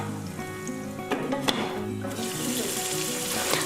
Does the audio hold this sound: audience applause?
no